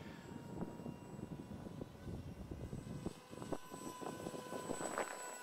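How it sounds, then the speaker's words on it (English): An H-King Bixler 1.1 RC model airplane with no stabilizer flies overhead on a windy day, its small propeller motor a steady buzzing drone that rises and falls in pitch over rushing wind noise. "I hope you'll be able to keep track of the aeroplane."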